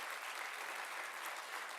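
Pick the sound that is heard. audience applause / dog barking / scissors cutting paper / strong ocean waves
audience applause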